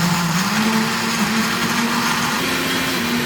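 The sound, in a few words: FIMEI multifunction food processor running at maximum speed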